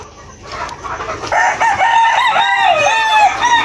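A young gamecock stag crows up close and loud in one drawn-out, wavering call, with softer clucks and farmyard noise just before it.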